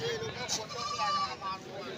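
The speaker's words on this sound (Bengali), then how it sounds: "দেখুন এখানে ব্ল্যাক বেঙ্গলে পাঁঠা রয়েছে সাড়ে আট হাজার টাকা দাম আছে" Black Bengal goats bleat in a busy village goat market at Uluberia, a short bleat rising over steady crowd chatter and nearby talk.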